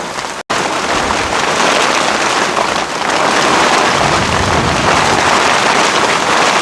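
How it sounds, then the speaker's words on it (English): Strong wind gusts roar steadily across an open high desert site, loud and close, with a brief dropout near the start and no voices. "how strong of the winds we're getting here"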